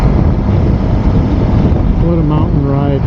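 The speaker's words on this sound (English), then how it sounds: "The wind is incredible." Strong wind buffets the microphone on a windy mountain ride near the ocean, a loud, continuous roar and rumble throughout, with a faint voice emerging in the final second.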